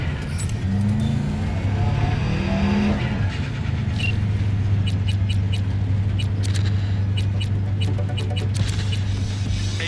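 A car driven in the video game Cyberpunk 2077 on Xbox Series X, a steady, loud engine drone holding an even pitch throughout, with light ticking on top and no speech.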